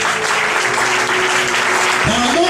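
A church congregation claps and cheers loudly and continuously, a dense wall of crowd noise. A voice rises briefly toward the end.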